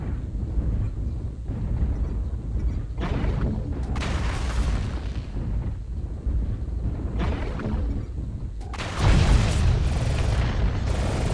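Artillery strike explosions in a video game, heard as several heavy, muffled booms rising out of a constant low rumble, with one louder blast near the end.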